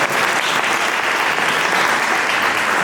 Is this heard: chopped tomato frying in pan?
no